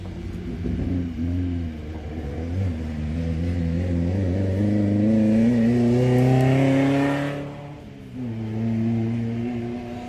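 A 1965 VW Bug buggy in a 1600-class off-road race in Columbus, Montana roars loudly, its engine revving up steadily, then briefly dropping off before pulling again.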